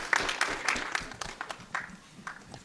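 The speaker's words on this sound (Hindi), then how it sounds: "ताली बजाओ।" Scattered clapping from an audience at a film trailer launch event, uneven bursts of claps with some voices mixed in, moderately quiet and thinning out.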